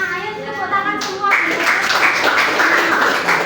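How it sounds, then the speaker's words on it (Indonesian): A classroom group of children breaks into dense, sustained clapping after a brief voice, the applause loud and close, continuing steadily to the end. "Ayo tepuk tangan semua."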